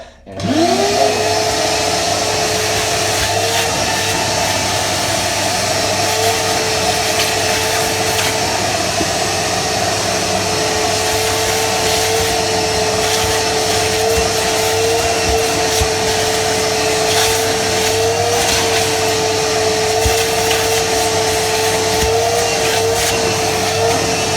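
A wet vacuum runs steadily close by while sucking up debris around a toilet during a bowl replacement, a loud continuous motor whine with a rising start-up and an even roar that holds for the whole stretch.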